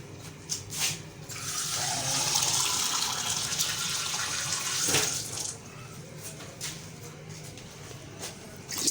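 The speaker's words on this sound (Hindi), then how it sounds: "तीन गिलास ही हम पानी के डालेंगे, हमारा गोश्त अच्छे से गल जाए" Water poured from a glass into a pot of meat cooking for Old Delhi-style degi achari chicken biryani, a steady splashing pour lasting several seconds with a brief louder gush, then trailing off.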